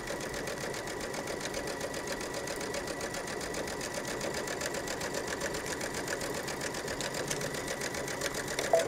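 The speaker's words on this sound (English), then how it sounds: "Sometimes it's a little hard when you're trying to sew all 3 layers." A sewing machine stitches twill tape through three layers of a jacket facing, running steadily and continuously at close range with an even mechanical whir and no talking.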